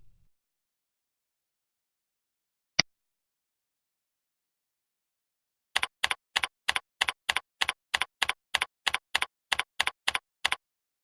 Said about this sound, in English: Enter the password.